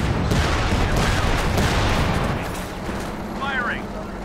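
Bomb blast in the WWII strategy game Company of Heroes during a 4v4 match on the Nordwind map, a long loud rumbling wash of battle noise that eases off partway, with faint chirps near the end.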